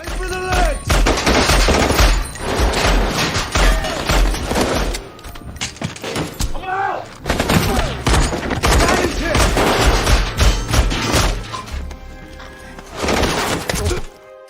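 Loud, dense gunfire in an action film scene with special forces under attack from intruders: sustained bursts of rapid shots and booms fill nearly the whole stretch, with brief lulls between volleys.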